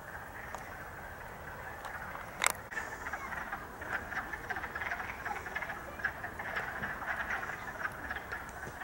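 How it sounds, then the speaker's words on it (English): A chorus of leopard frogs croaking steadily outdoors in spring at moderate distance, with one sharp knock partway through and a low background hiss. "If I'm not mistaken, I think they're the leopard frog sounds."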